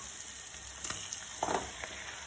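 Chicken pieces dropped into a hot pan of softened onions for Kerala-style chicken rice, a close, fairly quiet sizzle with short crackling bursts and faint stirring, no talking.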